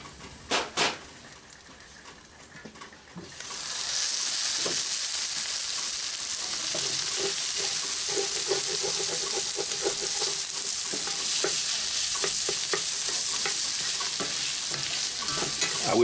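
Breakfast frying in a cast iron skillet, with a steady loud sizzle that builds after a few seconds and the scrape and clatter of stirring running through it, no talking.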